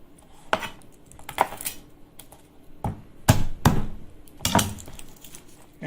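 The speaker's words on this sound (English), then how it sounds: "Let me go ahead and peel this onion." Peeling an onion at a kitchen workstation by hand: scattered dry crackles, taps and rustles of papery skin, irregular and close, with no talking.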